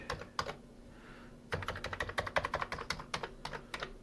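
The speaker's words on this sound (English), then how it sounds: "It looks like our keyboard is working." Quick bursts of typing on a Commodore 64 keyboard, a few taps, a short pause, then a rapid run of clicking keys up close.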